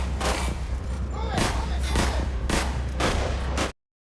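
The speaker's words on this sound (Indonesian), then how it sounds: "terjadilah baku tembakan tersebut" Rapid gunshots crack again and again in a heavy exchange of fire, loud and close, with sharp bursts every half second or so before an abrupt cut to silence.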